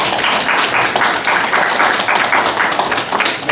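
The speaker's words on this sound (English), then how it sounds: "I agree with the round of applause from the audience" A council chamber audience applauds during a regular mayor and council session, a steady dense patter of many hands clapping at close range for a few seconds with no talk over it.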